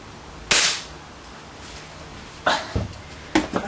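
Air gun pellets fired into a stack of floppy disks: three sharp, loud cracks with brief impact noise, the first alone and the last two closer together, over a quiet background.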